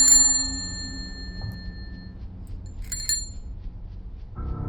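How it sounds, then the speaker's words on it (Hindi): A bicycle bell rings out in a silent village night by a post office, a bright ding with a long ringing decay, followed by a second clear ring a few seconds later amid a quiet low hum. "तभी सन्नाटे को चीरते हुए साइकिल की घंटी की आवाज एक बार फिर से वहां पर गूंजने लग जाती है।"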